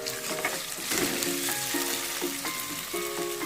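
Potato and turmeric tossed into frying onion and coconut give a short burst of sizzling with light stirring scrapes and faint tonal ringing from the pan.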